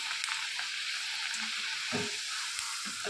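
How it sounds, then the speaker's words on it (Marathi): Puris fry in hot oil, a close, dense and steady sizzling crackle with small bubbling pops throughout and no voices. "तेलात टाकू चांगलं परतून घ्यायचं म्हणजे तळून घ्यायचं."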